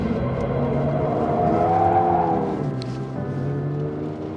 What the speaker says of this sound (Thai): หักเข้าไป เติมคันเร่งครับ